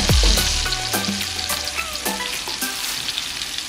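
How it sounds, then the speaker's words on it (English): Gag grouper fillets sear in a very hot pan, a loud sizzle with sharp crackling pops right at the start that settles into a steady frying hiss, dotted with spatters and light scraping throughout. "Make sure you have a really hot pan in order to lightly sear all sides of the fillets"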